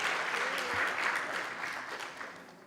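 Conference audience clapping for a staff member, a dense wash of many hands sustained and fairly steady, slowly thinning toward the end, with a faint voice briefly audible underneath.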